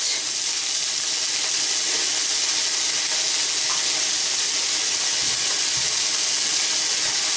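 Onions fry in a wok with a steady, close hiss of sizzling that never lets up, and no one talks over it.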